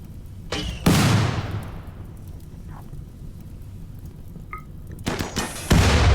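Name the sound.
gunfire in a video game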